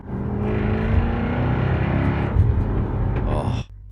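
A 5-liter supercharged V8 car engine roars loudly and steadily, holding a deep throbbing rumble for a few seconds before cutting off abruptly.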